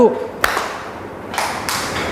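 Eighth-grade students in a classroom clapping along in a concentration game, with a few sharp, separate claps spaced apart and a soft, roomy background between them.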